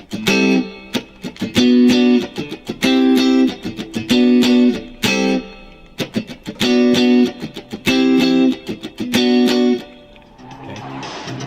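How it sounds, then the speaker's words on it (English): Electric guitar playing a song, strummed in a tight 16th-note rhythm. Repeated bursts of bright chords come with short gaps between them, loud and close, and the playing ends in a hiss of noise. "if you strum it with a little bit of rhythm with a 16th note strumming pattern"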